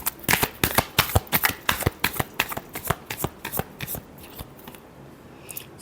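Tarot cards are shuffled by hand, a rapid run of crisp riffling snaps close to the microphone for about four seconds before trailing off into near quiet.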